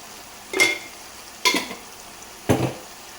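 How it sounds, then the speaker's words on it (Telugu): Onion paste frying in oil for a fish curry, heard as three short, separate bursts of stirring and sizzling against a quiet background. "చూసారు కదండి ఆయిల్ పేస్ట్ అనేది బాగా వేగుతూ ఉంది"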